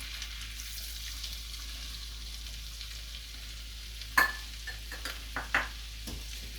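Minced fresh garlic cooking in melted butter in a pan gives a faint, steady sizzle, broken near the end by a few sharp scrapes and clicks of stirring.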